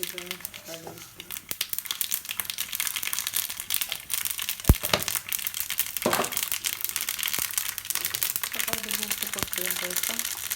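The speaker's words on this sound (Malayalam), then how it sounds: "അപ്പം ഞാൻ ഇതിന് കടുകൊന്ന് വറുത്തിടട്ടെ." Mustard seeds splutter in hot oil with dense, close crackling and popping that runs throughout. A voice is heard faintly at moments.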